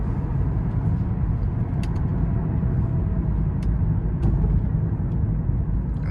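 A 2008 Lexus RX350 drives along the road after an ignition coil replacement, giving a steady, dense low rumble of engine and road noise throughout, with no talking.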